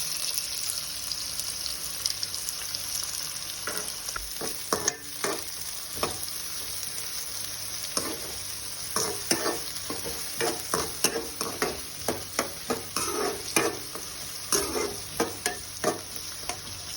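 Onions fry in a pan for vegetable fried rice, a soft continuous sizzle broken by frequent rhythmic scraping stirs, fairly quiet and without speech.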